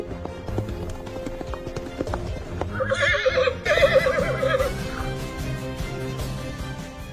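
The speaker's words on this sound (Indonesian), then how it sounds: "tiba-tiba seekor kuda menghampirinya" A white horse neighs and whinnies over steady clip-clopping hooves in a desert setting, the hoofbeats continuous and fairly close with the neigh rising loudly midway.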